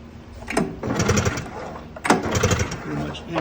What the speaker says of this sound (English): I'm gonna turn the lights off and give this rope a few pulls.